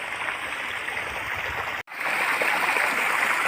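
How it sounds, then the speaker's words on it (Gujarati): Water gushes steadily from the outlet of a 6.5 hp electric motor pump on a farm, a dense close rushing wash that cuts out for an instant near the middle and then resumes just as strongly. "જોઈ લે પાણી કાઢે આ સાડા છની મોટર"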